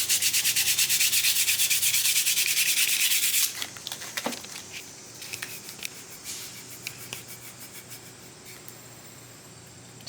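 Hand sanding with sandpaper, loud steady rapid rubbing strokes for the first few seconds, then stopping, followed by quieter scattered scrapes, handling knocks and faint shuffling.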